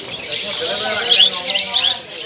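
Colored parakeets at a kiosk in the Pramuka bird market trill and chirp in a busy, overlapping chatter, with a few sharper high tweets standing out near the end.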